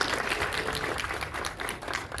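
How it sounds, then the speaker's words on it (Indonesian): A film festival Q&A audience applauds director Randolph Zaini, brisk close clapping from a modest crowd filling the short moment. "Kalau belum kenal tepuk tangan untuk Randolph"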